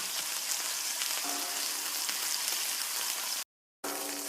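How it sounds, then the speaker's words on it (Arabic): Seasoned chicken breasts fry in a pan with a steady, close hiss and crackle of sizzling oil that continues almost without a break. "دحين راح أشوي صدور الدجاج اللي تبلتها"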